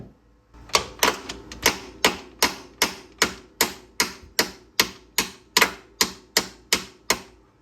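Sharp, evenly spaced taps ring out as a bushing is driven into a Land Rover Defender, about a dozen and a half close, crisp metallic knocks in steady rhythm with no talk.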